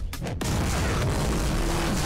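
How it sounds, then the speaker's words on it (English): A loud shotgun blast in a video game, a single heavy boom at the start followed by a continuous roar of game action and noise. "Shotgun."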